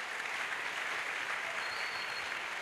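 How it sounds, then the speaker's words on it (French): Congregation at an evangelistic crusade applauding in acclamation of Jesus Christ, a soft, distant, uniform rush of clapping with no distinct individual claps. "Acclamation à Jésus-Christ"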